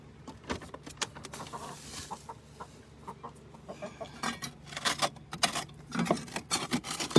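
Chickens cluck in a chicken yard on a hot day, with repeated short clucks and squawks close by, growing busier and louder toward the end.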